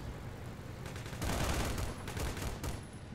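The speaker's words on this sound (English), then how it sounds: "They're gonna open up with some serious fire." Heavy gunfire crackles through a video game battle during a Soviet assault in Afghanistan, a dense, continuous barrage of rapid shots that swells louder midway and keeps rattling without pause.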